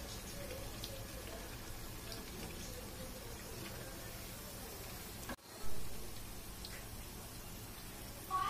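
Corn fritters deep fry in hot oil, a faint, even bubbling hiss that holds steady, broken by a short thump and a brief surge of louder sizzling.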